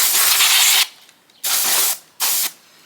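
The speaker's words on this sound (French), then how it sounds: "c'est de la bombe d'air liquide pour composants, ça marche aussi" A can of compressed air duster blasts loud hissing bursts onto a Makita LXT 18V DUC122Z cordless pruning chainsaw, three close sprays separated by short gaps.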